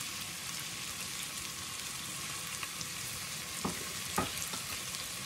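Spices and a stock cube fry in a pan for chicken couscous with onion, giving a faint, steady sizzle with a few soft scrapes and taps from stirring.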